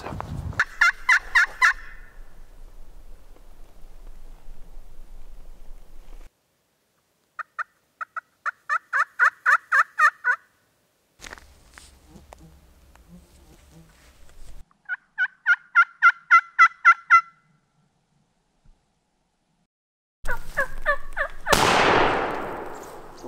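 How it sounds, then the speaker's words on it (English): Several bursts of wild turkey gobbling ring out on public land in eastern Washington, rapid rattling calls repeated in separate volleys with pauses between, fairly distant yet clear, followed by a closer rustling noise at the end. "We just heard a gobble down that way quite a ways."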